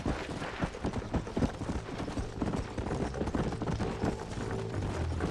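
Horse galloping in the video game Red Dead Redemption, rapid rhythmic hoof clip-clops close up and continuous over a low rumbling game background, with no clear speech.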